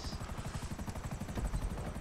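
Helicopter in a video game, a rapid rotor chop pulsing steadily and loudly throughout, close and unbroken.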